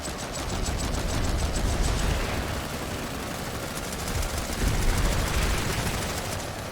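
Sustained automatic gunfire in the Planetside 2 battle game as troops fire at tanks, rapid continuous bursts of machine-gun shots loud and dense throughout with no talk.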